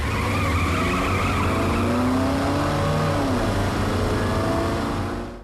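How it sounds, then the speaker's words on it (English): Car tires screech loudly and continuously over a revving engine, the squeal wavering in pitch before cutting off abruptly. "Now wheels screeched as the car seemed to maneuver violently from side to side"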